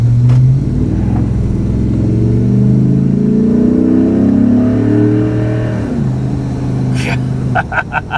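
A Ford Raptor's 6.2-liter V8 with a six-speed transmission and about 240,000 miles revs loudly and accelerates, its deep engine note climbing through a gear and then settling, heard up close from inside the truck.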